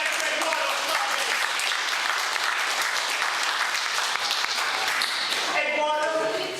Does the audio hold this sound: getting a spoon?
no